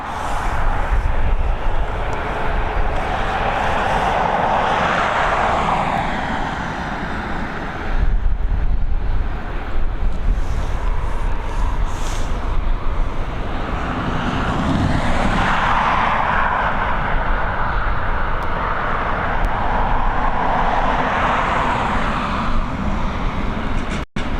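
Jet airliner departing Dublin Airport runway 28L in the evening, a steady broad engine roar holding for the whole stretch, swelling and easing at a distance with no talk.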